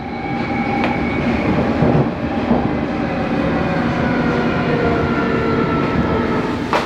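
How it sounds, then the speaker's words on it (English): Loud, steady rumble of an underground train running, with a roaring drone, faint clicks from the rails and a high whine throughout. "We're now back on the tube, 3 stops"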